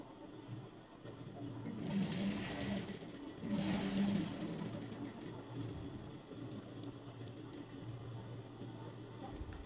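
Sewing machine stitching small patchwork fabric pieces together for a cushion cover, a low continuous mechanical whirr that swells in two bursts and then settles, with faint room noise around it.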